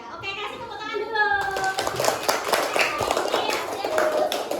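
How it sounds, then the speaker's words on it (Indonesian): A classroom group claps their hands for a presenting team, a burst of scattered applause rising after a moment of children's chatter and lingering near and lively throughout. "Ya, oke, kasih tepuk tangan dulu."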